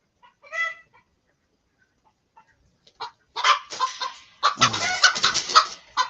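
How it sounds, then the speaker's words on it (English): Hen clucking and squawking in agitated bursts while being chased by a peacock at a horse yard, one brief call first, then a rising run of loud, close, frantic clucks. "There's a hen getting chased by a peacock."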